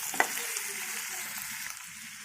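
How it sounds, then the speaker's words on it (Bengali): Chopped garlic, onion, tomato and green chili fry in hot oil with a continuous, fairly faint sizzle, broken by one sharp utensil clink at the start. "আমি এখন ওই তেলের মধ্যে রসুন কুচি, তারপরে পেঁয়াজ কুচি, টমেটো কুচি"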